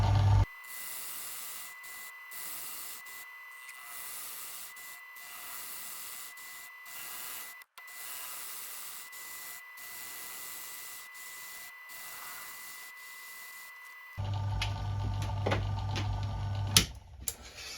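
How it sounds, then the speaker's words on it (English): Metal lathe taking a gentle cut across the flange of a small 2½-inch gauge steam locomotive bogie wheel, a steady whirring machine hum with a faint scraping texture throughout, growing louder and rougher near the end. "You see we're currently cutting the flange still."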